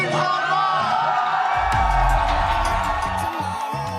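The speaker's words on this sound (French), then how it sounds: "je vous demande de faire un tonnerre d'applaudissements pour Neptune Drama" A crowd at a drag competition finale cheers, whoops and shouts for a drag performer, loud and close, with excited voices layered over a dense roar of applause that holds steady throughout.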